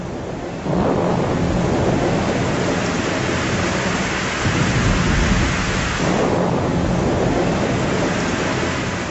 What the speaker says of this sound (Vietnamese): sao tự nhiên trời nổi sấm chớp mưa vậy?